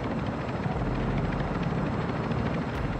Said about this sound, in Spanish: Aquí estoy viendo el helicóptero.